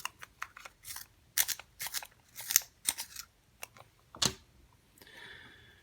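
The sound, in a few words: pencil being sharpened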